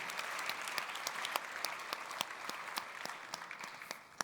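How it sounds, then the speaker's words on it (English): Audience applause at a startup pitch competition final, steady dense clapping at a moderate distance lasting throughout, with a few sharper individual claps standing out near the end. "Big round of applause for you."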